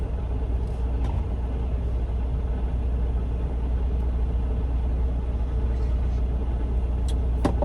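Semi truck with a manual, non-synchronized heavy transmission driving, a steady low diesel rumble and drone filling the cab, with a few faint clicks and rattles over the constant engine noise.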